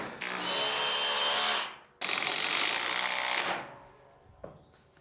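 Hammer drill with a 3/16 SDS bit boring into material in two sustained bursts of about one and a half seconds each, loud and close, with a brief pause between, then quiet.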